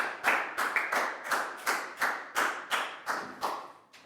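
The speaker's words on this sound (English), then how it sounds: "So let's have a big round of applause for Bang Pon." Students in a primary-school science classroom clap together in a slow, unified rhythm, about a dozen distinct beats evenly spaced and fairly close, each clap ringing briefly before the next.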